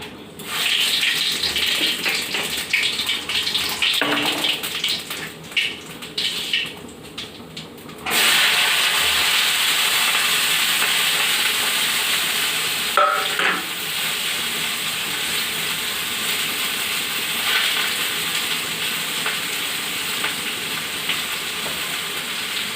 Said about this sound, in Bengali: একটু কালো জিরে দিয়ে দিচ্ছি